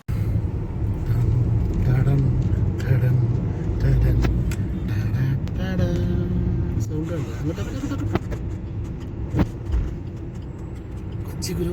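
Low rumbling idle of a 2001 Ashok Leyland bus diesel engine, steady and close throughout, with occasional clanks and background noise layered over the drone.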